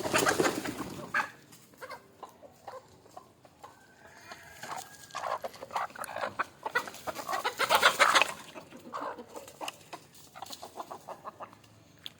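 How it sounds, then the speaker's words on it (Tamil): Black chickens cluck and call in scattered bursts, some close and loud, others softer, amid a quiet outdoor background. "கோழியெல்லாம் பாருங்கள் ப்ரோ"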